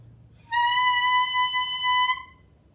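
A clarinet freshly fitted with its reed and ligature plays one steady, clear sustained note, close and loud, lasting about a second and a half before stopping cleanly.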